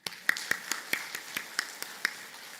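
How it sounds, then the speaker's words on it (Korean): A church congregation claps briefly, a handful of distinct, crisp claps in an irregular rhythm, fairly faint and close, with no talk over them. "박수 한번 칩시다."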